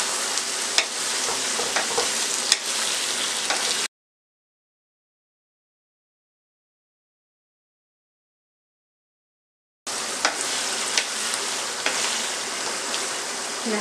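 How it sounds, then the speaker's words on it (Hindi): Garlic paste fries with chicken in a hot pan, giving a steady close sizzle with stirring scrapes. The sizzling is heard in two stretches separated by a long silent gap. "लहसुन पेस्ट को मैंने 1 मिनट के लिए फ्राई किया"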